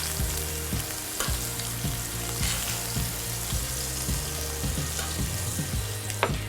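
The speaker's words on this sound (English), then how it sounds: "shrimp is so easily cooked, so make sure you only do it a minute on each side." Key West pink shrimp sizzle steadily in a hot pan, a dense continuous frying hiss with occasional soft clinks and stirring bumps, close and fairly loud, with no talking.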